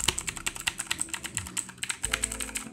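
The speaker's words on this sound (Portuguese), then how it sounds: "que é um teclado que tem a switch Blue" Rapid clicky keystrokes on a mechanical keyboard with blue switches, a steady run of sharp taps at close range with no talking.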